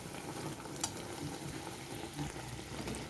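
Mangoes stewing in melted jaggery, stirred steadily in a pan, give a soft continuous bubbling sizzle with faint scraping strokes, close and fairly quiet, with no voices.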